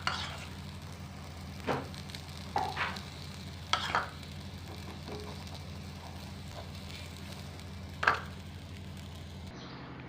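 Aloo paratha frying in a pan gives off a soft, steady sizzle with a few louder crackles and scrapes scattered through. It stays fairly quiet throughout, with no one talking.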